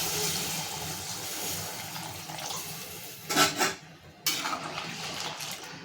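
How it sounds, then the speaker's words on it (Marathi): Water is poured into a boiling masala curry in a kadai, giving a short gush and splash over a steady cooking hiss, with a brief clatter of utensils nearby. "आपलं जे साधं पाणी आहे ते टाकून त्याला एक मोठी उकळ घेणार आहे"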